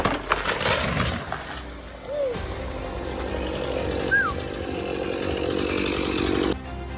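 A chainsaw felling a tree runs as a steady buzzing drone through most of the span, with a couple of brief pitch swoops as the engine revs, then cuts off near the end.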